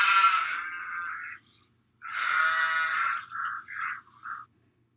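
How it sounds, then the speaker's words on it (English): Two bleating calls, the first long and wavering, the second followed by three short bursts, loud and close with a brief pause between them. "A sheep goes baa."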